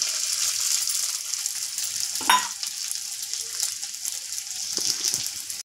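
Soaked sabudana goes into a pan of sautéed potatoes, frying with a steady sizzle broken by a couple of brief clinks and scrapes.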